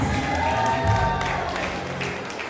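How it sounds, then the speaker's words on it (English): Applause rises for a graduate crossing the stage at an NGSA graduation ceremony, a dense, even patter of many hands clapping with a faint crowd murmur beneath. "Round of applause for NGSA graduate Balraj Bejnot."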